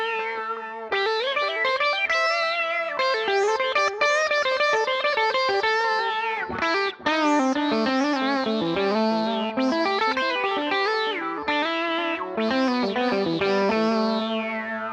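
Electric guitar lead through a Line 6 Helix legacy effect blending R700 and Tron 3 sounds, sweeping filtered, warbling tones over sustained notes, loud and continuous with no voices.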